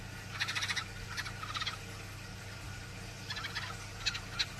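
A small baby bird rescued after a heavy rainstorm calls in bursts of rapid, high chirping, several short clusters separated by pauses, fairly close, over a low steady background hum.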